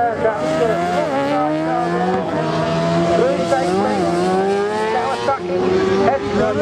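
Racing sidecar outfits pass on a road circuit during a race at Tonfanau, engines howling loud and close with rising and falling pitch as several machines go by in quick succession, with a commentator's voice over the top.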